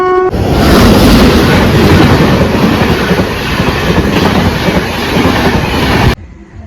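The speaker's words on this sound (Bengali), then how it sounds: "দেখো আবার ট্রেন চলে এসছে" A train rumbles past very close and loud on the rails, a heavy sustained roar with rhythmic wheel clatter that cuts off abruptly near the end.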